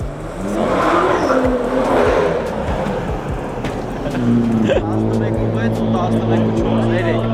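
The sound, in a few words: Someone's car driving, engine noise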